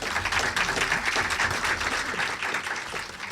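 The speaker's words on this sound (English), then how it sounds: "please give our panel a round of applause" Audience applause for a housing panel of bankers, developers and advocates at the close of the session, a moderately loud wash of clapping from a modest crowd, steady and unbroken throughout.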